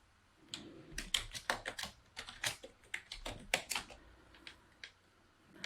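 Fingers tap out quick, uneven bursts of keystrokes on a computer keyboard, close and fairly quiet, with short pauses between clusters.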